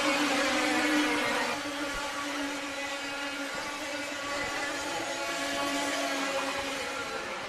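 A pack of 100 Super racing karts with highly stressed two-stroke engines screams past at around 20,000 revs, a dense, buzzing, high-pitched drone with layered engine tones that stays loud and steady throughout.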